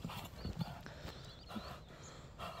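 A fast horse moves in faint, irregular hoof thumps and clops, quiet and somewhat distant against low background noise.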